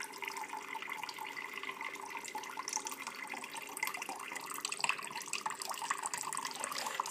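Water running from a tap in a home, a quiet, steady trickling splash with faint drips throughout, no talking.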